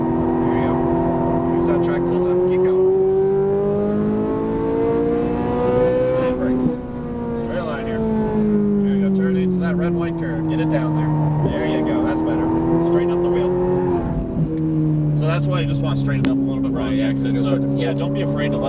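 A Ferrari 458 Italia accelerating hard on a race track, its engine note rising steadily through the revs with brief drops at gear changes, loud and continuous, with an instructor talking over it.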